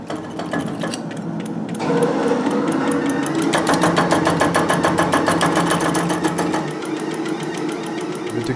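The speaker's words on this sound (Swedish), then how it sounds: "Så här är en trimmad sidventilsmotor jag tänkte åka med." A tuned side-valve Ford hot rod engine runs steadily at close range, its rapid, even firing pulses rising in intensity partway through and then easing slightly toward the end.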